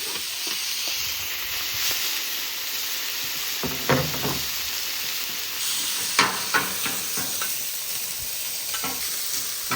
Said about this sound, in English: Put the steak right in the middle.